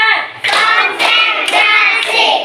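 A class claps their hands in rhythmic group bursts, about five loud, close claps spaced roughly half a second apart, with no voices over them.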